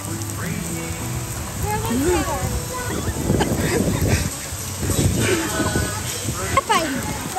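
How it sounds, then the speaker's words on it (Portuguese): Steady rain patters on a surface at Busch Gardens Tampa Bay, a constant hiss with scattered drops, while people talk over it at moderate volume. "É a chuva."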